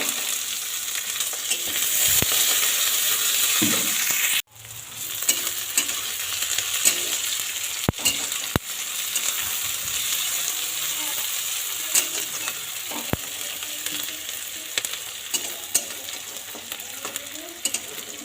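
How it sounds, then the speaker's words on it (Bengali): Onions sizzle and fry steadily in a pan for chowmein, with a spatula scraping and clattering against the metal at intervals, and a brief dip in the frying noise near the start. "তো এখানে দেখো পেঁয়াজটা মোটামুটি ভাজা হয়ে"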